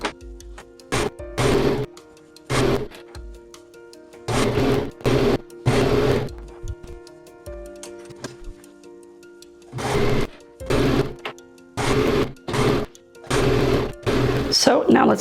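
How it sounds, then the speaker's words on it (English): A serger stitching a sleeve onto a knit top runs in short, loud mechanical bursts of rapid ticking stitches, separated by brief pauses as the fabric is guided along. "let's go to our sewing machine now, and with a serger or stretch stitch,"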